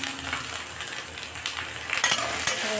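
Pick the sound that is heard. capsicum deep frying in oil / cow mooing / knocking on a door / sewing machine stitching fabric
capsicum deep frying in oil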